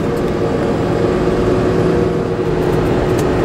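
A loud, steady truck engine drones with a sustained whining tone, close and continuous throughout, with no voices.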